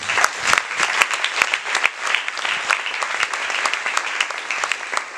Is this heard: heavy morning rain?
no